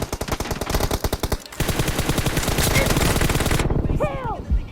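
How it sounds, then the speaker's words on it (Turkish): Rapid automatic gunfire from the PUBG Mobile video game rattles out in dense, loud bursts, with a short pause and then a longer sustained volley before a brief electronic chirp at the end. "Bir tane body vurdum Yiğit abi."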